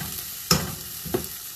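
A spatula scrapes and stirs fried rice made from leftovers in a hot pan, two distinct scraping strokes against a soft background sizzle, close and alone.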